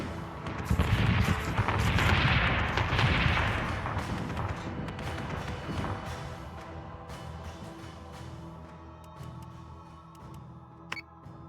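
Space battle weapons fire from the video game Battlestar Galactica Deadlock, with dense bursts of rapid gunfire and blasts loudest early on, then thinning into scattered distant shots under a steady rumble.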